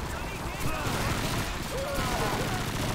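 Continuous, dense gunfire in Call of Duty 2 during a fight at a railway station, sustained and fairly distant, with voices talking over it.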